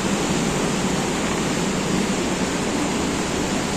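Fast-flowing water at Robber's Cave rushes in a steady, loud, unbroken roar that holds constant throughout, with no voices over it.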